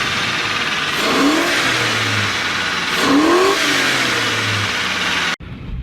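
A pickup truck engine revs up twice, rising and falling in pitch over a steady idle, loud and close, then cuts off abruptly.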